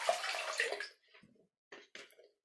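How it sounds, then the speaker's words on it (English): Clean water splashing from a bucket as feet are rinsed, a close pouring burst followed by short separate trickles and splashes in a quiet room. "rinse our feet with a clean water."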